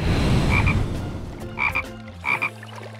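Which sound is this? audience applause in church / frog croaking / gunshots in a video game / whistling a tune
frog croaking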